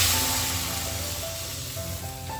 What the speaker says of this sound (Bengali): মশলাটা একদম কষে গেছে, এবার ঝোল দিয়ে দেবো।